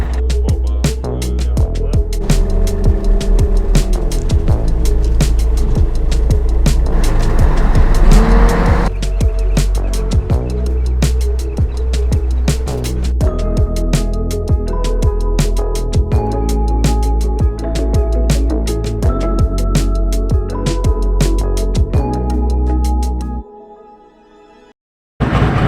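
A diesel car driving uphill on a Norwegian mountain hillclimb, its engine loud and close, revving hard with rising and falling pitch and brief tyre noise, then cutting out abruptly near the end.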